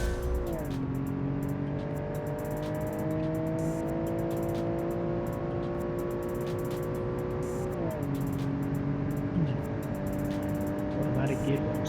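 A 1990 Super sedan with an automatic gearbox revving hard, the engine note climbing steadily, dropping as a gear shifts, then climbing again, loud and close with rough background noise.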